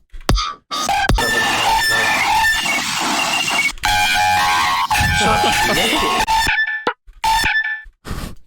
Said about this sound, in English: Did it just turn into a chicken?